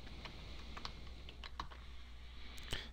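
Rapid, uneven typing on a computer keyboard, close and fairly quiet, with crisp individual key clicks scattered across a steady background hiss and no talking.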